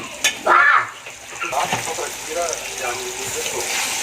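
Water is poured into a pan of frying food, giving a brief hissing burst followed by steady sizzling and bubbling, with a voice speaking over it at moments.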